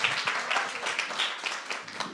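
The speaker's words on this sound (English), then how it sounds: "give yourselves a round of applause" A crowd claps and applauds steadily for a couple of seconds, moderately loud and continuous.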